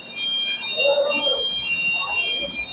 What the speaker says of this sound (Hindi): फायर अलार्म है वो